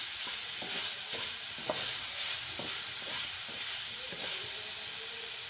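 Boiled broccoli is stirred into pasta frying with vegetables and chicken in a pan, giving a steady sizzle and hiss broken by repeated scraping stirs at an uneven pace.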